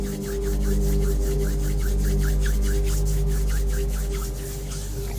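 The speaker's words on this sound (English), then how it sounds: "Bring those hands out in front of you and just rub them together gently" Palms rubbing together gently at the close of a morning meditation, a soft continuous swishing friction repeating in slow strokes, close and steady over a low room hum.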